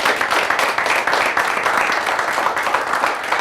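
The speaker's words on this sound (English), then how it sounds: "Won't y'all give y'all staff and administrators here a round of applause" Applause for staff and administrators at a high school gathering, a dense, continuous patter of many hands clapping at a moderate, even level for the whole stretch.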